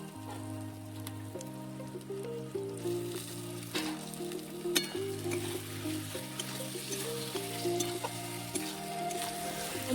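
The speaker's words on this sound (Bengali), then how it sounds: "মশলাটা কিছুক্ষণ কষে নেওয়ার পর তাতে কেটে রাখা টমেটোগুলো দিয়ে আবার কিছুক্ষণ ভালোভাবে কষে নেব।" Chopped tomatoes frying with curry masala for a chicken curry, giving a steady, soft sizzle that sits under loud melodic background music for the whole stretch.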